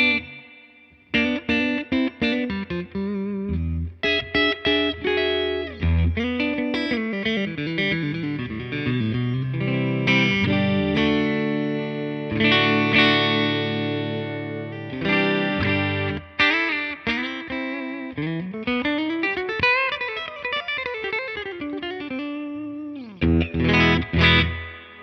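A Giffin Vikta electric guitar is played through effects with chorus, some drive and reverb, mixing sustained chords, bends and fast melodic runs with short pauses between phrases, loud and close with no voice.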